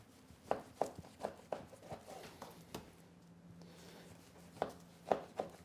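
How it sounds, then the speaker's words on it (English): A knife slices a beef ribeye into steaks. Faint, close taps and soft cuts come in irregular clusters, with a brief pause in the middle, against a quiet room. "now I'll go ahead and finish cutting my steaks here"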